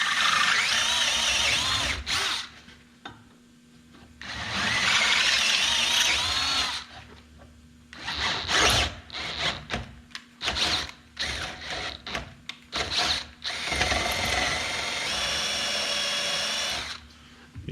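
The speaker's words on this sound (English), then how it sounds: "I'm gonna drill out these 4 holes" A power drill whirs in several bursts, some long and steady, others short and choppy, with quieter pauses between runs as four holes are bored out for a heli coil.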